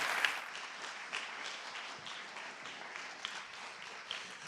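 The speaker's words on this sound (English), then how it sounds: "Can we all give a massive round of applause for Andres?" Applause from a conference audience at a React developer event, a steady wash of many hands clapping at moderate loudness, continuing evenly throughout with no talk over it.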